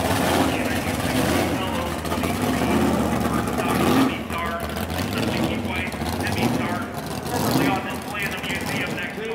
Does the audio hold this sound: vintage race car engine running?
yes